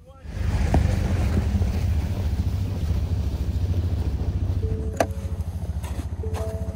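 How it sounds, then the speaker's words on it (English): A boat engine idles steadily during an overnight camping trip, a loud low rumbling drone that runs unbroken from start to finish, with wind buffeting the microphone and a couple of brief knocks near the end. "I'll leave the engine running."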